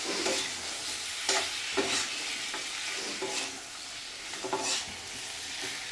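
Chicken with spices is stirred in a hot pan, giving a steady sizzle over which a spoon scrapes and stirs in regular close strokes.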